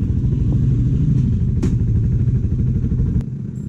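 A Rusi Flash motorcycle riding along a baywalk, its mid-pitched engine droning steadily and close with a rough, clattering tone, easing off near the end.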